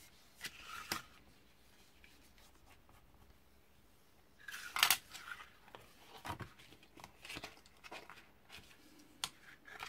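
Metal-effect paper is creased into folds for a box by hand, giving close, crisp crinkling and rustling bursts with brief scraping swipes, loudest in a cluster midway and otherwise sparse.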